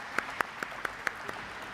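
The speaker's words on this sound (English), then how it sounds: "Can we have a huge round of applause once again" Applause at a company stock listing ceremony, heard as a few sparse, evenly spaced claps, roughly one every quarter second, faint against a quiet room.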